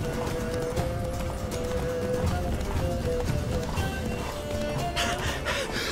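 Roach, Geralt's horse in The Witcher 3, gallops along with fast, steady clip-clop hoofbeats and a brief whinny, under game music and background effects.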